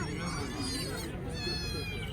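A cat meows at a busy animal bazaar in Fergana, its wavering cries rising over overlapping voices and crowd chatter.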